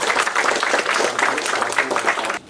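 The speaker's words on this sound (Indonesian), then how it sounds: "Tepuk tangan buat kita semua." Applause from a crowd, a dense burst of many hands clapping close by for a couple of seconds before cutting off abruptly.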